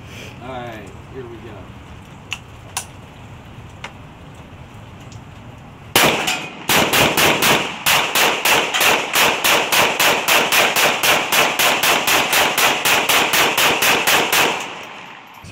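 Arsenal PR-01 rifle fired in a long rapid string of sharp, loud shots after a quieter stretch with a few faint clicks and handling noises, the reports evenly spaced like steady semi-automatic fire.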